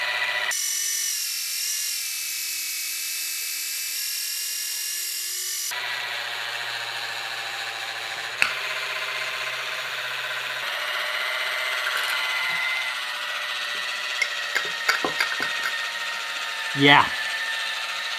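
An electric jar opener runs loud and steady for about five seconds with a buzzing motor whine, then gives way to rubbing and clicking handling noises. A person briefly speaks.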